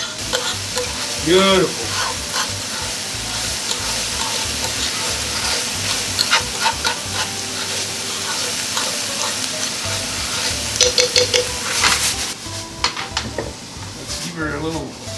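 Sofrito sizzles and spits steadily in a pan while being stirred for a bucatini carbonara, with utensil scrapes and brief kitchen clatter; a voice speaks briefly over the frying.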